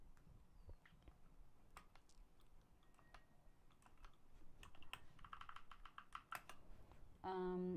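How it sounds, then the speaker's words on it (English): Close-up clacking of a Keychron K2 mechanical keyboard, irregular bursts of keystrokes at a moderate pace, ending with a short tonal sound. "Your keyboard sounds same as mine. Is it Keychron? Yes, it is Keychron K2."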